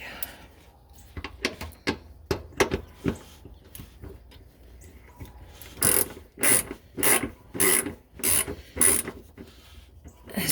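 A hand ratchet turns a nut onto an EVAP vent valve solenoid on a 2004 Saturn Vue, with sharp clicking pawl bursts that are scattered at first, then a steady run of six loud, evenly spaced clicking strokes near the end.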